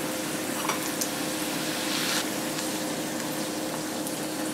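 Dough frying and puffing up in hot oil gives a steady, dense sizzle that stays loud and even throughout, with no voices over it.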